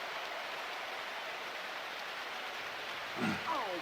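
Steady, even hiss of rain falling over a football video game field in wet conditions, a constant wash with a brief voice near the end.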